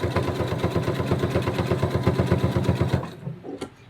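A sewing machine runs a seam on plush fabric for a flamingo floaty toy, with a rapid, even mechanical stitching rhythm heard close and fairly loud for about three seconds before stopping, followed by a faint handling noise.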